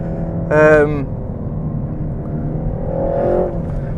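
A 300bhp RenaultSport Megane Trophy on a race track swells to a short, loud, rising engine note under throttle, then settles back to a steady cabin drone before a second, softer surge.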